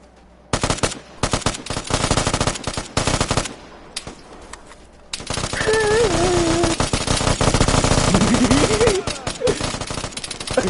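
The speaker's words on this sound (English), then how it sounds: "We're all shooting each other." Gunfire in a multiplayer shootout in the video game Vigor, rapid automatic bursts that break off and restart, then a long, dense stretch of continuous firing with faint voices beneath.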